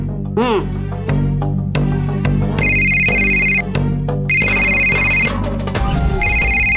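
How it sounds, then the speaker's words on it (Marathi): A phone rings in a Marathi TV drama scene with a repeating electronic ringtone. Bursts come in a steady on-off pattern while people talk loudly over it. "त्या बाईचाच फोन येतोय परत"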